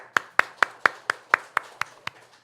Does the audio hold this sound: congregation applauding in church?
yes